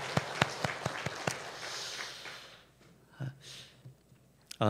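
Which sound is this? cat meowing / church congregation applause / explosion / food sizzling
church congregation applause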